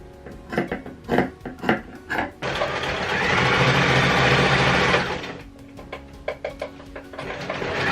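Sewing machine stitching a sweater, heard first as short stop-start bursts of stitching, then one loud continuous run of about three seconds, then more short bursts, close up and with no talking.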